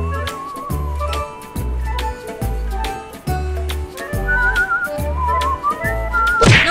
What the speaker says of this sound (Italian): Fischiare.